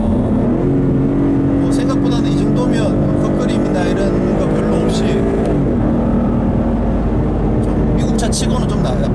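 A Ford Mustang GT's engine rises and falls in pitch as it revs through downshifts while driving, a loud, close drone inside the cabin with someone speaking over it.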